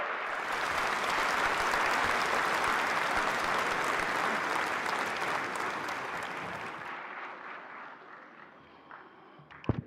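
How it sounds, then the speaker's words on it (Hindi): Loud applause from a large crowd at a national handicraft ceremony welcoming the Vice President of India, sustained and dense, gradually tapering off before dying away near the end. "माननीय उपराष्ट्रपति महोदय का जोरदार तालियों के साथ स्वागत करें।"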